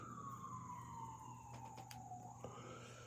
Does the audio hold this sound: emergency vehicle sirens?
yes